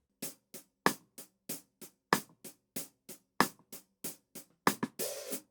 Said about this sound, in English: A backbeat with no kick will sound like this.